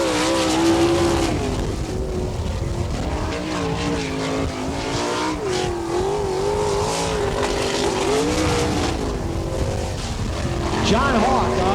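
A sprint car engine at a dirt track race roars steadily nearby, its pitch wavering and fluttering as the driver lets off the throttle, while someone talks over it.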